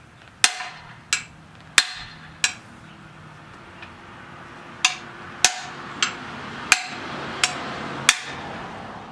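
A hammer strikes a socket set over the bushing on a C3 Corvette upper control arm, about a dozen sharp metallic blows in uneven pairs and singles with brief ringing tails between them, close and loud, no talking.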